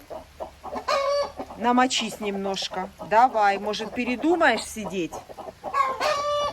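A broody hen clucks repeatedly in short bursts close by, interleaved with someone talking to her.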